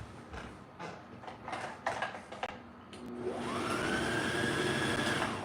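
Sewing machine stitching a jilbab, with a few clatters and bumps as the fabric is set in place, then a steady rising whirr that holds loud and close to the end.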